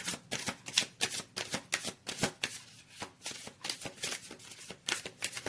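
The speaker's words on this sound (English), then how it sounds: "I'm going to go ahead and start shuffling the deck here." Tarot cards riffled and shuffled in rapid, crisp bursts of papery flicks, close up and steady, with no talking.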